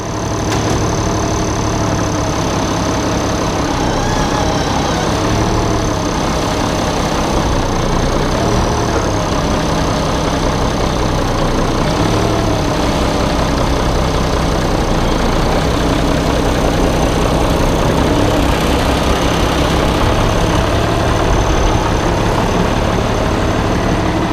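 An International Harvester IH 1086 tractor runs steadily while powering a grinder milling chicken feed, a loud continuous engine drone with a constant mechanical whine on top and no talking.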